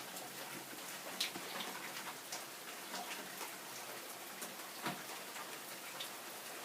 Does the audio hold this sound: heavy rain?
yes